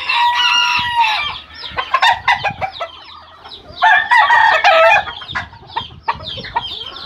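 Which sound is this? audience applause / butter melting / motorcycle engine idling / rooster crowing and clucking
rooster crowing and clucking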